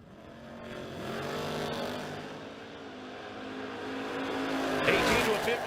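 A Chevrolet Malibu and a Fox Body Mustang drag race: engines build and roar as the cars launch, a rising sustained rumble at a distance with tire squeal and an announcer talking over it.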